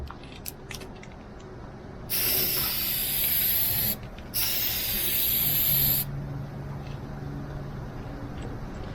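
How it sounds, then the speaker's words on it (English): Spray lacquer hisses from an aerosol can onto a wooden piece in two steady bursts of about two seconds each, separated by a short pause, loud and close over a quiet room. "do your first sprays about 10 to 12 inches away from the piece of wood"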